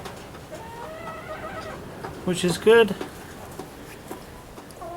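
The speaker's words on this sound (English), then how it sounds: "We've got the chickens already trying out the new perch" Chickens clucking as they try out a new perch in a coop, short bursts of clucks in the middle, with a person talking over them.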